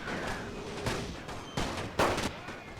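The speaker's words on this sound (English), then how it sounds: "the Royal Marines have opened fire" Ragged rifle volleys from Royal Marines in The Great War game's Gallipoli cliff assault, several sharp bursts of massed gunfire crackling over a constant battlefield din, the loudest near the end.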